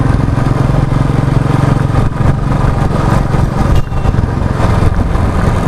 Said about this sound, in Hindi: I am riding with pillion